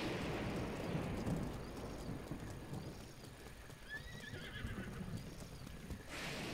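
Epona the horse from Breath of the Wild gives a faint whinny over a steady wash of game rain and storm ambience, with hoofsteps clip-clopping through it and no voices.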